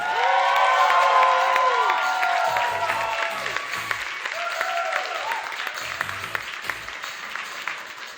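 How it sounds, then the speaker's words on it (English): Comedy club audience at Laugh Factory Chicago claps and cheers for a contestant, a steady roar of applause with whoops, tapering into lighter scattered clapping. "Start clapping right now for my friend Sarah Perry, everybody"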